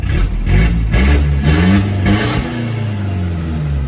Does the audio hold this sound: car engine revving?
yes